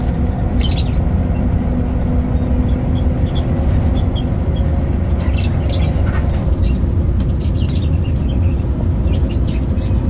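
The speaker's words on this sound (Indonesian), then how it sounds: "itu burungnya bunyi-bunyi mulu" Faint chirps and squawks from a caged bird come in short bursts over a loud, constant engine rumble from a moving bus.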